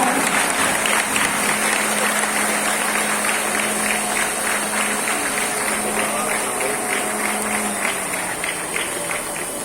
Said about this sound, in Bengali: সকলের করতালি অভিনন্দন শুভেচ্ছা